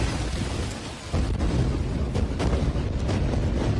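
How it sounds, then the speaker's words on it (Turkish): Bombs are exploding near Al-Shifa Hospital in Gaza: heavy rumbling booms roll in from a distance, a dense low roar that rises after a brief lull, with no voices. "Bir sürü bomba atılıyor"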